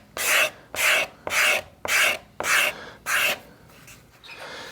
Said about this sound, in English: if you're scraping vigorously, the edge gets quite hot